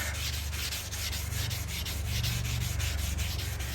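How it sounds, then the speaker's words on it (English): A hardened steel tool rest is sanded to remove rust, giving a steady, close scrubbing rasp with faint repeated strokes over a continuous low hum. "We're just going to sand it down."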